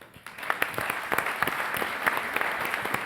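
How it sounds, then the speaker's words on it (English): Audience at an international policy conference applauding a minister's introduction, starting abruptly and settling into a continuous, dense round of clapping from a sizeable crowd with some sharper individual claps. "Round of applause."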